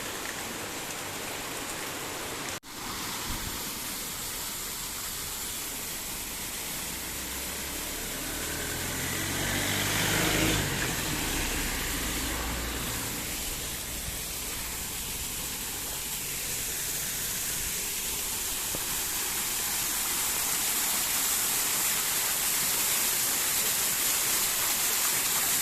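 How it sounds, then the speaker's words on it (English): Heavy rain pours steadily for a long stretch in the rainforest near Agumbe, a dense, full hiss with a louder rushing swell midway, and no talking. "Heavy rain."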